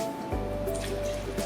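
Milk poured into a measuring cup while making chocolate pudding cups, a soft continuous liquid trickle with light splashing, close and steady, following a few small taps at the start.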